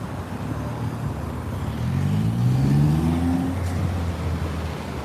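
A car drives past on Michigan Avenue in Chicago at night, its engine rumble swelling as it nears and revs, then easing away into steady city traffic noise.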